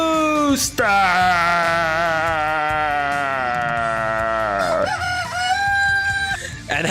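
A rooster crows loud and close, a long cock-a-doodle-doo that holds steady and then falls, followed by a shorter second call, with no talking over it.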